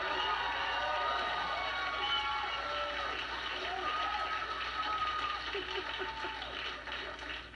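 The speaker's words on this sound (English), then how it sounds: "Thank you for that weird, unregulated applause." A studio audience on a late-night talk show claps and cheers with scattered whoops and shouts, a lively but fairly quiet crowd noise sustained throughout.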